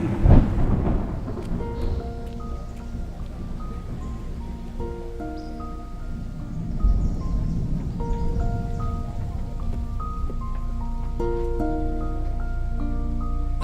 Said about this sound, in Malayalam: നാട്ടിൽ മൊത്തം മഴ പെയ്യാണ്.